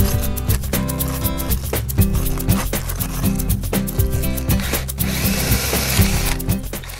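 A power drill bores a 1.5-inch hole through asphalt roof shingles during a solar hot water system install, a loud, steady grinding whir with rhythmic ratcheting pulses that runs without a break and has no speech over it.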